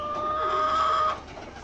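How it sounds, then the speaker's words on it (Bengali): A Wyandotte hen clucks close by, a sustained, tonal, drawn-out call that stops abruptly, leaving quieter background noise. "খুবই কোয়ালিটি সম্পন্ন একটি মুরগি, বাংলাদেশের ব্যাপক জনপ্রিয় একটি মুরগি"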